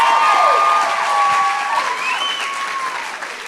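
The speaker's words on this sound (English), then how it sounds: "give Willow one more round of applause." Audience at an author talk applauding and cheering loudly, with whoops rising over dense clapping that gradually eases.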